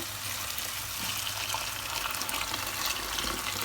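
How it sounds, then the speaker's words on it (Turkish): Hot water pours steadily into a pot of pasta, a continuous close gushing splash that stays even throughout with no talking. "Üzerine sıcak suyu ilave ediyorum."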